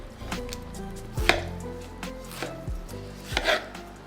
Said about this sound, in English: And just a rough chop.